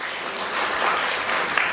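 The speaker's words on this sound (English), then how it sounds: "I will ask you to appreciate the speaker that has just exited the stage with a clap" An audience at an entrepreneurship summit claps for a speaker leaving the stage, a dense, steady patter of many hands, moderately loud and continuous throughout, with no voices over it.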